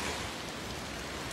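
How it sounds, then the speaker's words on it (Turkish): Steady rain falls outdoors where a mobile bakery oven crew is setting out in wet, muddy weather, a soft continuous hiss with no speech. "Yağmurumuz var, çamurumuz var"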